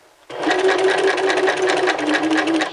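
Sewing machine stitching fabric, starting abruptly after a quiet moment and running as a close, steady mechanical chatter of fast repeating needle strokes, loud and continuous.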